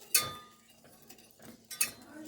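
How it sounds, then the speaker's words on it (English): A whisk clinks against a bowl of melting good-quality bittersweet chocolate, two bright metallic strikes a second and a half apart, with faint scraping between them. "we're just going to whisk this"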